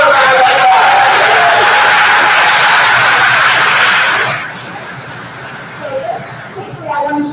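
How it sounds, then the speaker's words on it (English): A school crowd at a 5th grade promotion ceremony claps and cheers loudly for about four seconds, then the noise drops to murmuring chatter with a voice starting to speak. "Give yourself a round of applause."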